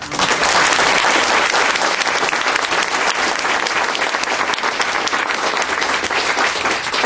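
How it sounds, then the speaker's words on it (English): Warm, sustained applause from a forum audience for sustainable Santa Clara County: dense, even clapping from many hands at strong volume, continuing for the full seven seconds with no talk. "Could you please warmly applaud Rod for..."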